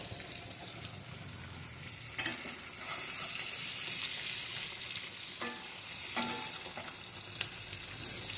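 Bacon sizzles and fries steadily in a Dutch oven, a constant close hiss with occasional sharper crackles and a few stirring scrapes, no voices.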